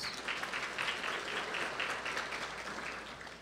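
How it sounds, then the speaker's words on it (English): Audience at a retirement banquet giving a round of applause, a steady wash of clapping from a crowd heard at a moderate distance, fading slightly at the end. "Let's give him a round of applause."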